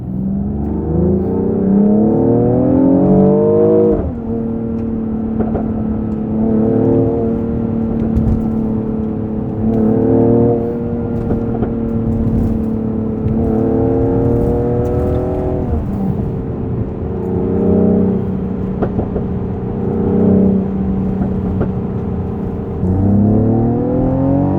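A Mercedes-AMG GLE 53 six-cylinder SUV is driven hard, its engine and exhaust climbing through several loud, sustained high-rpm pulls with gear changes between, heard from inside the car without talk.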